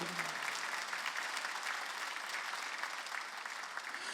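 A church congregation at a Wednesday worship service breaks into applause during a sermon, a dense, even wash of many hands clapping that holds steady for a few seconds, fairly soft and without talk over it.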